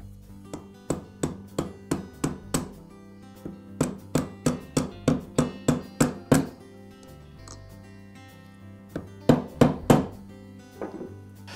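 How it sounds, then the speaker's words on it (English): Rapid sharp metallic taps ring out as a socket drives a ball bearing into a bearing box during a Makita circular saw repair, coming in quick bursts of a dozen or so blows with a brief pause before a final cluster. "use a socket with a diameter the same size as the outer race to tap the bearing"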